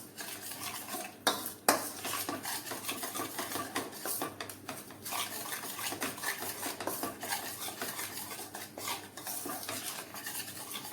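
Flour roasting in ghee in a pan, stirred steadily with a utensil that scrapes and clinks against the metal in an irregular rhythm, close and fairly loud, with no voices.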